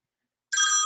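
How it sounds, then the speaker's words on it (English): A telephone suddenly starts ringing with an incoming call, a loud bright electronic trill bursting in after silence and continuing steadily. "we got a phone call here"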